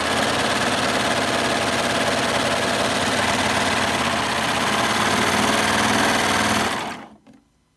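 A Baby Lock Euphoria sewing machine stitches a chain stitch in one continuous fast run, a loud, close mechanical whir that stays even for nearly seven seconds before stopping abruptly.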